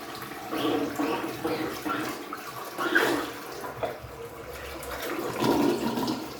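A toilet flushes a large wad of toilet paper through a Prevent-A-Clog device, producing a steady rushing, gurgling swirl of water that continues throughout with no talking.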